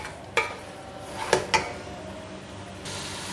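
Beef pieces fry with yogurt in a pot for degi yakhni pulao, a soft steady sizzle broken by a few sharp metallic clinks of a spoon against the pot, near and fairly quiet.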